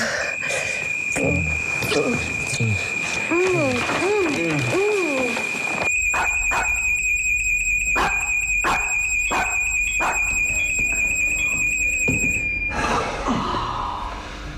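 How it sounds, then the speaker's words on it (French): A household alarm goes off at night, a steady piercing electronic tone with rapid pulsing beeps that runs for most of the stretch while someone talks and gasps underneath, then stops abruptly. "Mademoiselle Berthelot, je vais pas venir déconnecter l'alarme à chaque fois qu'elle sonne"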